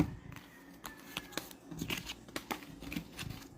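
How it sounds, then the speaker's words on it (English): A deck of tarot cards is shuffled by hand, quiet irregular riffling and soft slapping bursts of card edges against each other, close and faint, with no voices. "I'm just going to shuffle this one out before I switch decks."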